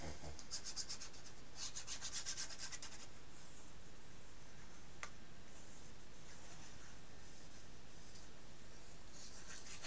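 Paper being glued and rubbed down by hand in a handmade Christmas scrapbook album, soft close scratchy rubbing strokes in short bursts with a faint tick, no talking.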